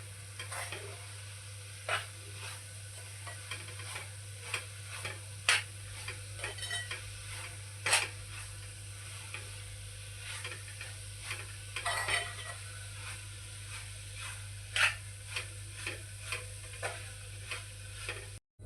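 Fresh grated coconut filling with cardamom powder and milk masala powder stirred in a pan over low heat: quiet, repeated spoon scrapes and taps over a soft, steady sizzle, with no voices.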